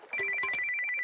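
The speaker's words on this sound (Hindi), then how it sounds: "ये फोन तेरी निशा का ही होगा।" A mobile phone ringtone rings in a Hindi-dubbed South Indian action movie scene, a short, clear electronic melody trilling alone for about a second.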